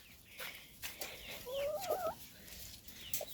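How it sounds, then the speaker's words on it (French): Backyard hens in a garden clucking and murmuring at close range, with a short rising squawk in the middle and soft scattered calls around it. "Donc on arrive aux poules. Et là, oula, elles sont contentes."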